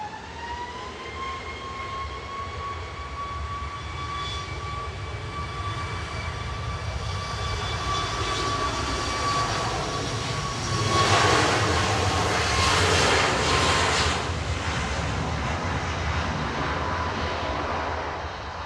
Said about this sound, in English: Ryanair departing to Lisbon now, flight 2252. It's a MAX 8 IGW.